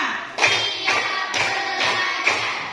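Classroom group claps in a steady counted rhythm, five sharp broadband bursts evenly spaced about half a second apart, fairly close and loud, with faint voices underneath.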